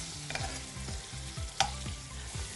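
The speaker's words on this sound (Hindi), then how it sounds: "पे मैं थोड़ा सा जिंजर गार्लिक पेस्ट करीबन 1 चम्मच के अराउंड इसमें ऐड कर रही हूँ।" Ginger garlic paste fries in hot oil with a faint, steady sizzle. Regular rhythmic scraping strokes of a stirring spoon and one sharp clink sound over it, with no voices.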